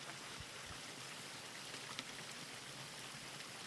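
InSPAration Pool Refresh liquid poured from its bottle straight into swimming pool water, a quiet, steady trickling splash that stays faint and continuous with a small click near the middle.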